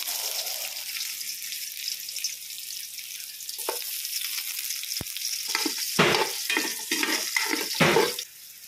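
Garlic frying in a pan while cooking octopus adobo in coconut milk: a steady close sizzle, then a run of louder scraping stirs and spatters toward the end.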